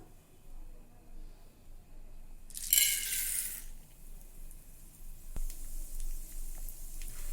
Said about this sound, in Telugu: ఆయిల్ వేడెక్కాక ఫస్ట్ మనం చనాదాలు తీసుకున్నాం కదా, అది వేసుకొని వేయించుకుందాం